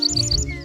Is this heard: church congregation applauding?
no